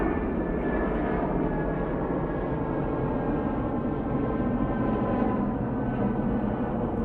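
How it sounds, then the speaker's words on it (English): An airliner in oneworld livery departs Manchester Airport for Heathrow, a steady, distant, low engine roar that rumbles continuously with no voices over it. "Nigel going back off to Heathrow in the One World livery"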